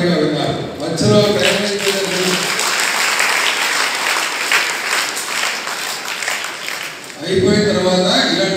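An audience at a public speech breaks into sustained applause, a loud, dense wash of clapping lasting several seconds, with a voice speaking before and after it.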